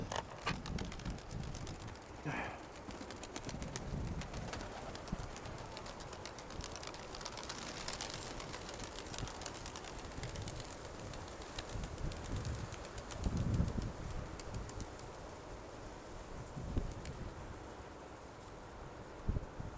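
Soft pigeon cooing and fluttering against a steady outdoor background hum, with occasional rustles and faint mechanical noise; no one speaks.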